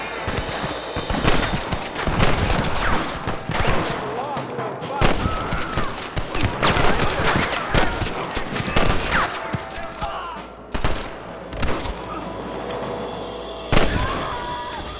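Repeated gunfire in a Western shootout in Red Dead Redemption, with sharp cracks and bursts spread irregularly across the scene, loud and close, mixed with ambient game sound.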